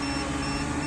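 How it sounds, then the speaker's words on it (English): A drone's LiFePO4 battery low-voltage alarm sounds as a steady, continuous electronic tone, with the pack down to about 2.7 volts per cell; the tone holds level through the short moment with no talk over it. "Now it is giving the beep."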